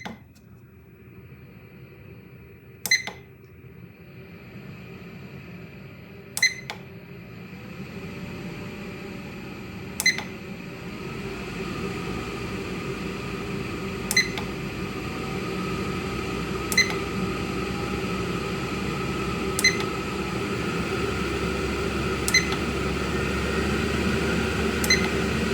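A WeCreat Vision laser engraver runs with a steady fan-like whir that grows gradually louder as its power setting is raised, with short sharp beeps recurring about every three to four seconds; no talking.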